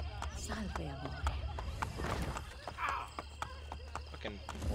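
Horse hooves clopping in the Renaissance-era video game Assassin's Creed Brotherhood, a quick, steady run of hoof beats under continuous game voices and ambient sound.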